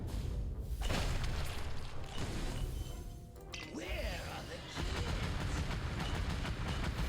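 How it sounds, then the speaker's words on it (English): A basic attack in the mobile game Watcher of Realms sets off explosions, heard as rumbling, crashing booms with a steady, noisy game soundtrack underneath and a short quieter dip midway. "There's his basic attack, exploding things and killing everything."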